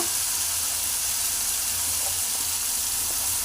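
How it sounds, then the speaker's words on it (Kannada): Avare beans frying in hot oil give a steady, even sizzle that holds at the same level throughout, close by and with no voices over it. "ಎಣ್ಣೆಯಲ್ಲಿ ಕಾಳು ಫ್ರೈ ಮಾಡ್ಕೋಬೇಕು"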